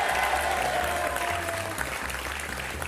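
Studio audience at a French TV game show applauding a contestant, a steady, dense burst of clapping that fills the room and tapers slightly, with no talk over it.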